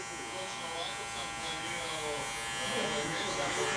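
An electric hair clipper buzzes steadily close by during a low taper haircut, held just off the head rather than cutting, its motor hum constant and growing slightly louder toward the end.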